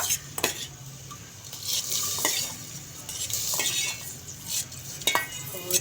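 Boiled chana dal tips into hot ghee tadka in a pot, with a soft sizzle, scraping stirs and occasional clinks of a spoon against metal, fairly quiet and close.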